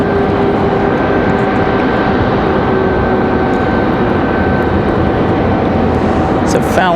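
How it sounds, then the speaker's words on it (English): A Frontier Airlines A321 in Fallon the Falcon livery arrives, a loud, steady engine roar with a high whining tone, heard close over background noise. "It looks like we've got Frontier 1517 coming in from Philadelphia."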